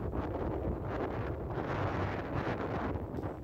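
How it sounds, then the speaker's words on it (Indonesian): Strong, cold wind at the Mount Bromo crater roars and buffets the microphone as a loud, continuous gusting rush with no talk. "angin yang sangat kencang"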